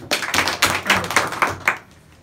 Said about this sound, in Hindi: करिश्मा के लिए जोरदार ताली।